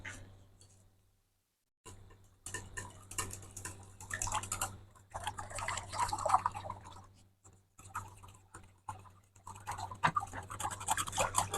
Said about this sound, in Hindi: दही को हमने अच्छे से फेंटना है।